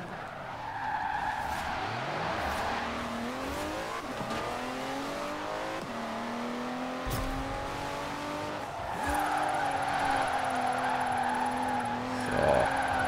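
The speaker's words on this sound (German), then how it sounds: "Genau so, Fabian, driftet man." In Forza Horizon 4, an all-wheel-drive car of about 500 horsepower and two tonnes drifts in a long, continuous tire skid, its engine note dropping and climbing between gear changes.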